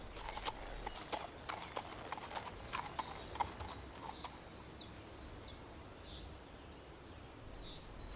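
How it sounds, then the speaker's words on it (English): Horse hooves clop in an uneven rhythm on hard ground, fairly close at first, then give way to a few faint bird chirps. "Further down the road were more hoofbeats"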